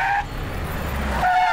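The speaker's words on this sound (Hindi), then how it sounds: "गाड़ी रोक जरा।" A car in an action movie brakes to a stop, a brief rush of tire and engine noise swelling and settling between louder passages of film sound.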